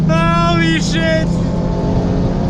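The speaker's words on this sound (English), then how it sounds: "Oh, backfire too." A boosted Subaru FRS roars past with a harsh, revving exhaust note that dips and rises once before settling into a rough drone, loud and close, with people talking excitedly over it.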